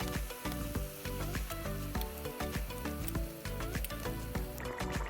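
Wine cooking and reducing in a pan for a homemade Italian dish, giving a steady, close, fizzing sizzle that continues without pause, with faint scraping clinks above it.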